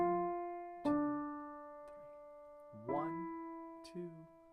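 A simple right-hand piano melody is played legato, with a few sustained notes struck slowly so each rings into the next. It is quiet and close, with a voice speaking softly between some of the notes.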